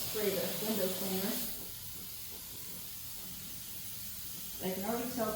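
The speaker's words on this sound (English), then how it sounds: "spray the window cleaner." Window cleaner sprayed onto plastic for a winter scene display, a steady hissing mist lasting a few seconds, set between stretches of talk at the start and end.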